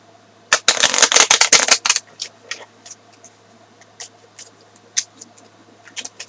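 Tarot cards are shuffled in a quick burst of crisp riffling that lasts about a second and a half, followed by scattered soft taps and card handling.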